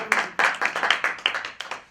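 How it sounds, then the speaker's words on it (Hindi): A small audience claps in a burst of sharp, uneven hand claps at a public talk on self-employment and Ayurvedic products, close and alone, tapering off after a couple of seconds. "सर अगले एक बार जोरदार तालियां"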